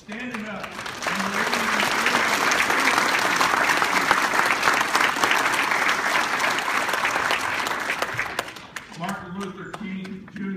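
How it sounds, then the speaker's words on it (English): Big hand of applause from a crowd at a citizenship gathering, rising in and holding for most of the stretch before tapering, with a voice talking briefly at the start and again after it fades. "I'd like to give him a big hand of applause"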